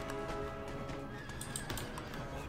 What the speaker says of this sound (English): These guys just executing the horses.